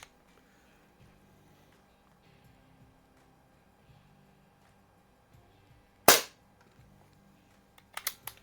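Crosman Silhouette 1701P air pistol firing a pellet, a single sharp crack partway through, then a pair of quicker metallic clicks near the end, otherwise near-silence with faint low handling noise.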